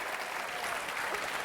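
A TV game show studio audience applauds, a brief, dense burst of many hands clapping that stays full and even for a second and a half.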